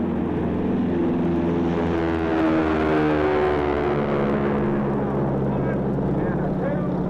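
A model airplane engine of under 10 horsepower flies aerobatics at an air show, giving a steady, buzzing drone whose pitch rises and falls slightly as the plane passes for about seven seconds.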